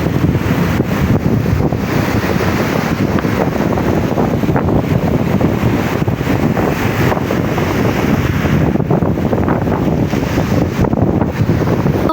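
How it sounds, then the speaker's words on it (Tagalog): Strong typhoon wind roaring and buffeting the microphone continuously, a loud broadband rumble with faint water or surf sounds beneath. "lakas na ng hangin guys. Lakas ng hangin."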